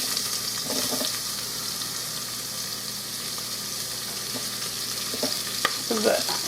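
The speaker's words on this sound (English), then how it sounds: "I'm just going to let them saute for a few minutes." A large onion sautés in the still-hot pot of a 4-quart pressure cooker, giving off a dense, steady sizzle with occasional scraping stirs near the end.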